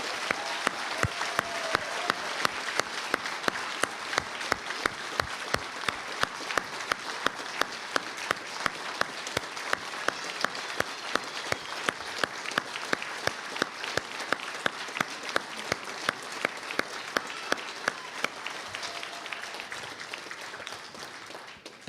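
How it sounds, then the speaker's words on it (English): Audience at a police award ceremony breaks into sustained applause, dense clapping from a large crowd filling a hall for about twenty seconds before tapering off at the end. "Please join me in one more round of applause for all of our award recipients tonight."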